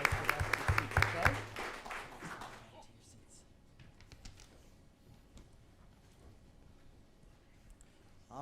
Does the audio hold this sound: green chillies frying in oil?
no